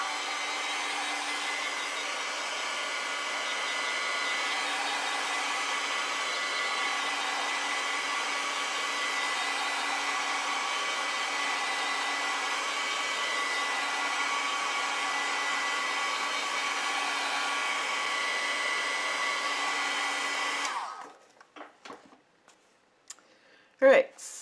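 A hair dryer blows steadily on a wet watercolor painting of hydrangea flowers, a loud continuous whoosh with a low hum that runs about 20 seconds, then cuts off, leaving a few faint clicks and handling sounds.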